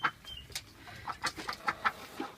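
Hens on a farm clucking as they settle into their feed, several birds giving short overlapping clucks and squawks in an uneven rhythm, fairly close and moderately loud.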